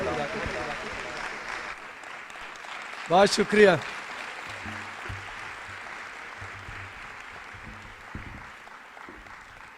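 A church congregation gives loud applause for a pastor. It starts as a broad wash of clapping, then thins and fades while someone speaks over and after it.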